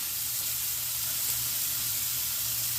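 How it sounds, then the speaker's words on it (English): Shrimp dropped into a lightly oiled pan give off a steady, broad sizzle of frying, constant and fairly loud throughout with no talking. "And I'm just dropping the shrimp down on the pan, half of them."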